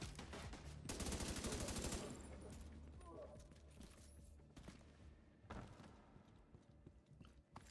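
Rapid bursts of automatic gunfire in The Division 2, a dense volley up front followed by scattered shots and thuds at a moderate distance.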